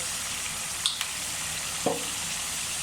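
Vegetables and sausage fry in a pan with vinegar for vegetable biryani, giving a steady broadband sizzle with a couple of brief clinks and one soft knock, close and even, no voices.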